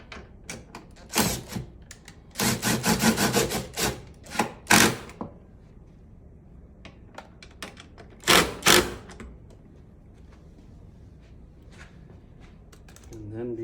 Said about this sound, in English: So I'm going to go ahead and tighten this side down.